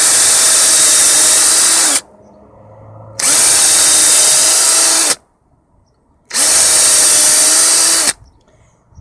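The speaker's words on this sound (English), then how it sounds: "let's drill some 3mm holes in here" A power drill boring 3mm holes for a home-built 30W LED garden solar light, whining loudly in three sustained bursts of about two seconds each, separated by short quiet pauses with faint handling noise.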